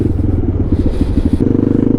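A motorcycle engine thrums steadily while riding along a road in Botswana, a close, loud pulsing idle-to-cruise throb with rattling and a rhythmic beat that tightens toward the end.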